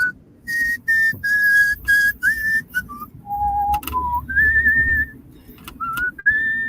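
Someone whistles a meandering, halting tune of short and sustained notes at shifting pitches, with small gaps between phrases and no talking.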